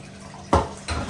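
Tap water splashes into a kitchen sink during dishwashing, two short bursts of running water rising over a quiet background, close by.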